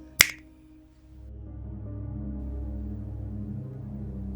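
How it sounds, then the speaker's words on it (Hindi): A single sharp finger snap rings out close and dry, a quick transient followed by a low, rumbling ambient drone that swells and lingers in a dark, eerie horror setting. "चुटकी बजाई।"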